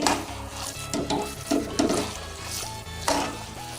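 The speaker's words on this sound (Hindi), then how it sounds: "कुछ ड्राई फ्रूट डाल देंगे, नारियल डाल देंगे। अच्छे से मिक्स कर लेंगे।" A spoon stirs carrot halwa mixed with dry fruits and coconut in a pan, giving faint, soft scraping and sizzling with light knocks against the metal.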